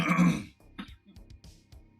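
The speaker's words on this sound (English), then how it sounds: "as soon as you exhale, you start coughing" A harsh, close cough bursts out after exhaling cannabis smoke, followed by a few quieter throat-clearing hacks and breaths.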